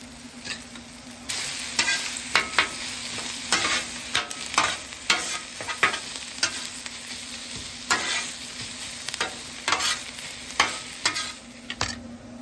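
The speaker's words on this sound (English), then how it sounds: "We're going to saute all those vegetables and pork together." Vegetables and pork sautéing in half a stick of butter for a sausage stuffing, with a steady sizzle under repeated close spatula scrapes and stirs that keep a loose rhythm throughout.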